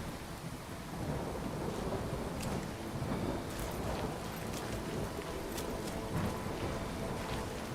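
Steady rain in the video game Fallout 4 hissing continuously with occasional distant rumbles of thunder, a full stormy wash with no talking.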